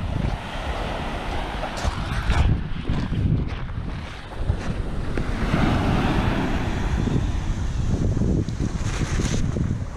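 Sea waves wash onto a shore under gusty wind, with rumbling surges and buffeting microphone wind noise running steadily throughout at a moderate level.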